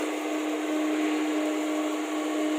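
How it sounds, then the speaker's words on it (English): SMAW stick welding with a Chinese-made rod, a steady close crackling hiss that runs unbroken with a constant electrical hum underneath and no talking. "Kita sekarang welding pakai root."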